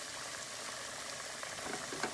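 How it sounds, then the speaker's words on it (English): Chicken simmers in a pot for Caribbean chicken and rice, a faint, steady bubbling and light sizzle close by, with no talking. "chicken bubbling good"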